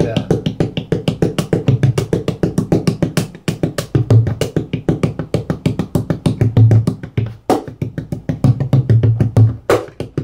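A bodhrán tipper beats the drum in a fast continuous roll, close and loud, with sharper cracking accents now and then and occasional talk faint beneath the strokes.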